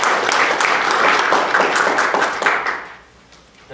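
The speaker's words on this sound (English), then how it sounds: "If we could applaud all of them for their support." Audience applause honoring regional partners, including the Raleigh-Durham Airport Authority and Triangle Transit, at a transit innovation session: a dense, steady wash of many hands clapping, fading out near the end.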